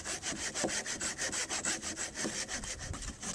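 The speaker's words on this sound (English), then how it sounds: "we're going to saw off a chunk of that log like so" A hand saw cuts a chunk off a wooden log in quick, steady back-and-forth strokes, each a rasping scrape, close and fairly quiet.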